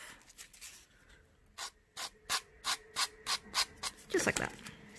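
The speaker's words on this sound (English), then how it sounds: "file that off" A nail file rubs off excess nail art material in about eight quick, even strokes, close and quiet, followed by a short vocal sound at the end.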